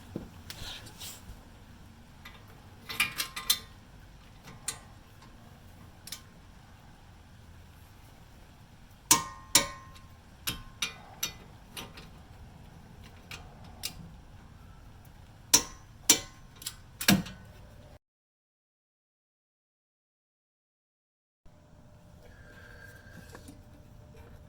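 A torque wrench is clicked on the brake caliper bolts of a Jeep Grand Cherokee, giving faint sharp metallic clicks in uneven clusters, then a short silence and a quiet tone at the end.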